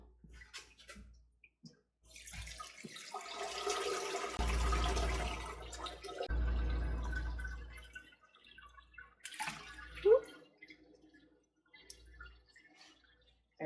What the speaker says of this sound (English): I am going to go ahead and dump the rest of the pan